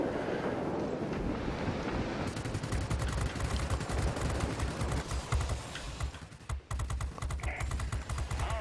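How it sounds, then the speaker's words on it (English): Four 20mm cannons on a Su-10 bomber in World of Warplanes fire a dense, continuous rattling burst that runs nearly the whole time, loud and close over rushing wind. "4 20mm cannons making contact on a target."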